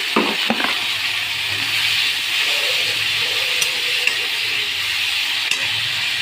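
Mushrooms fry in a pan with lightly fried onion and tomato, giving a steady, loud, continuous sizzle with a few faint scrapes and taps.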